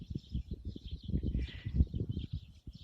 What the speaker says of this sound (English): Enjoy the song of the birds and the beautiful sunrise with me this morning.